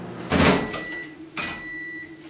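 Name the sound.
microwave oven finishing cooking pumpkin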